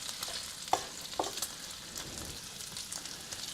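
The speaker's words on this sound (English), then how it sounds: "So this bacon's only been on here for maybe 5 minutes on a medium-high heat pan." Bacon sizzles in a big pan over medium-high heat, a continuous crackling fry with a few sharper pops and spits, fairly close and with no talking.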